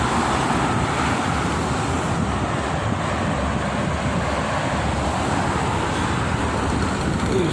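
Morning traffic on the Jakarta–Cikampek toll road, mostly buses and trucks: a steady, unbroken roar of passing heavy vehicles and tyre noise, constant in loudness with no speech.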